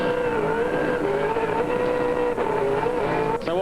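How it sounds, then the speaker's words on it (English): A 2001 V8 Supercar at Pukekohe holding its 40 km/h pit lane rev limiter, a loud, steady, harsh buzzing engine note with rapid stuttering cut-outs, close and continuous throughout. "The car on the 40km/h rev limiter makes an awful sound as they come down pit lane"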